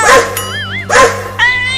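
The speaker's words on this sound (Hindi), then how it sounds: "वो कुत्ता हमें ही काटने के लिए आ रहा है" Cartoon dog barks twice in sharp, loud bursts with a whining, wavering yelp between them and a high whimper after, all near and alone without speech.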